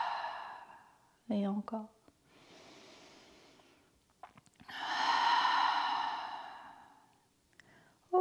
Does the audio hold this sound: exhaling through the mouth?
yes